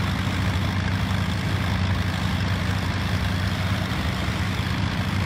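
A Junkers Ju160 aircraft engine, throttled back, from Flight Simulator X: a loud, steady, low droning hum that holds evenly throughout with no talking.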